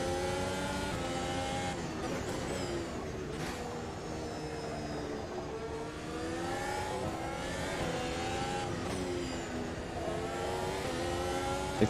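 A Formula 1 race car engine in the Automobilista 2 sim racing game, driven in VR, screams at high revs and rises and falls with gear changes and throttle, loud and continuous throughout.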